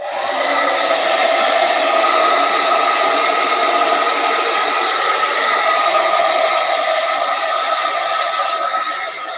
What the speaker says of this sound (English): I'm using the hairdryer to dry out the surface of a piece I'm working on